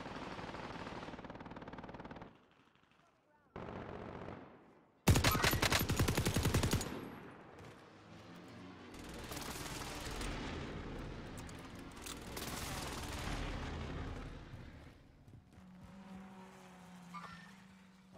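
Bursts of automatic machine-gun fire rattle in a video game match, loud rapid volleys with short gaps, followed by scattered shots, a distant boom and vehicle noise.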